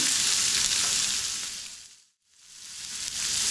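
Ginger, garlic and onions fry in a pan, giving a dense, loud sizzle that fades almost to silence midway and then swells back to full strength.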